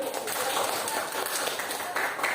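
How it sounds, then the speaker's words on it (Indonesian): Audience applause in a classroom after a group presentation, a steady dense patter of clapping holding through the whole stretch with no clear voice above it. "Oke, tepuk tangan."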